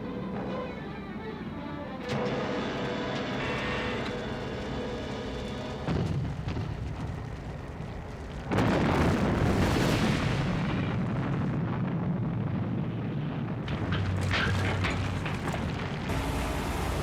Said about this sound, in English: Good shooting, Virgil.